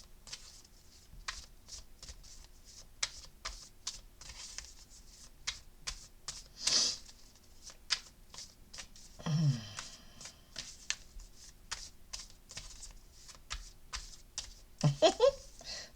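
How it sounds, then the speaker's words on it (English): Soft, steady riffling and snapping of a deck of oracle cards being shuffled for a reading, repeated in quick bursts with a few brief clicks, close by and no talking. "A little bit of quiet time here with the shuffling."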